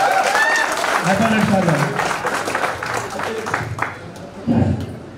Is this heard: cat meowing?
no